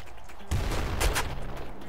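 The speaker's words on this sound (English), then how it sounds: "That's an assault rifle." Assault rifle gunfire in the video game Nuclear Throne, a quick burst of punchy shots kicking in after a brief quiet lead-in, close and loud over game background sound.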